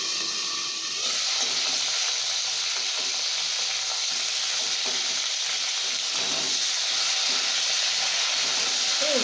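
Flat beans frying in hot oil with five-spice seeds, a steady close sizzle and hiss with faint stirring clatter throughout.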